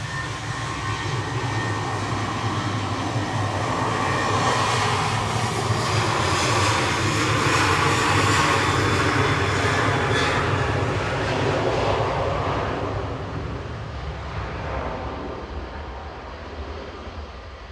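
Boeing 737-800 jet at Manchester Airport in the evening, a sustained loud engine roar that swells and then slowly fades as it passes, broad rumbling noise with no talking.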